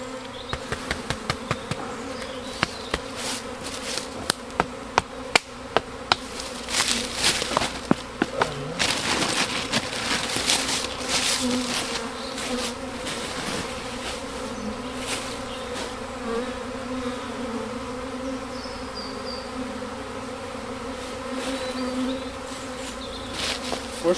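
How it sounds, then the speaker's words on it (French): Honeybees hum in a steady, low drone inside a hive, with scattered clicks and knocks near the start; no voices. "il n'y a pas beaucoup d'abeilles"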